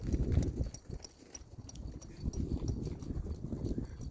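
A horse loping under saddle during a spur training session, its hoofbeats a steady rolling rhythm of dull thuds, fairly close, with no talking.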